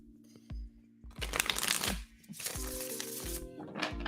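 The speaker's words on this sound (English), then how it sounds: "Wow, that was an awful shuffle." Tarot cards being shuffled by hand, a rough, uneven riffling and flapping of the deck in bursts with short pauses, close and fairly quiet, with no talking.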